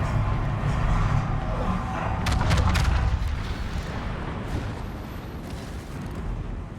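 Secondary guns on a battleship firing in World of Warships, a dense rumble of booming cannon shots with a quick cluster of sharp blasts partway through, loud and continuous with game noise, with no voices.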